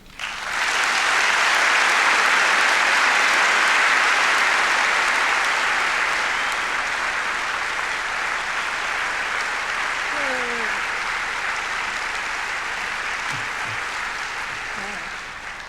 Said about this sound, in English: That was the biggest applause I've ever received.